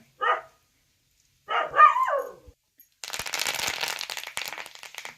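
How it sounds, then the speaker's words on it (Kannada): A dog barks a few sharp times with pauses between, then a burst of crackling, rattling noise follows and continues to the end. "ಹೊರಗಡೆ ನಾಯಿ ಐತ್ರಿ ಬೊಗಳಾಗತ್ತೆ"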